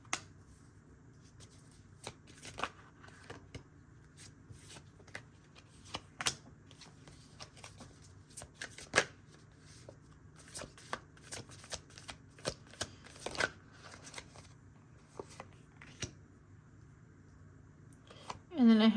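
Tarot cards are shuffled in a quiet room, giving a long run of soft, irregular flicks and riffles with occasional sharper snaps and a brief louder burst at the end.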